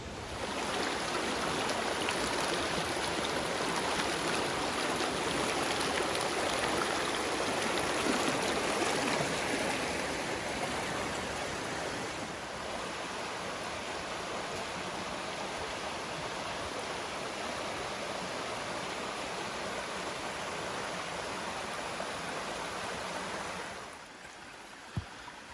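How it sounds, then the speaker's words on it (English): A steady, broad rush of flowing rainforest creek water in Tasmania's Huon Valley, close and continuous, easing slightly partway through and dropping off near the end. "it's beautiful right alongside the creek in the rainforest"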